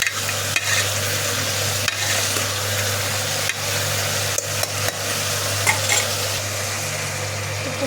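Food frying in a pan is stirred and mixed, giving a steady close sizzle with a low hum underneath and occasional scraping clicks from the utensil, with no talk.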